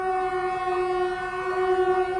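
A train, the 12891 Puri intercity superfast express, sounds a long, loud, steady horn as it arrives at Baripada railway station, a sustained tone continuing throughout.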